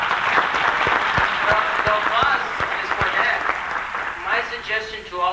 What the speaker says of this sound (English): So, the applause is for that.